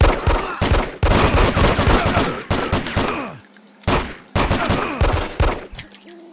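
Guns fire in Hitman 2: Silent Assassin in repeated loud, close bursts of rapid shots, separated by short gaps of quiet, with a final burst trailing off into a faint tone.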